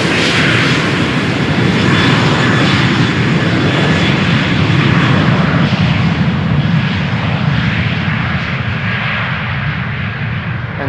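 An older-type Airbus A330 jet taking off from runway 36L at Amsterdam Schiphol, a loud, continuous engine roar with a broad rumble that stays steady and close, fading slightly toward the end.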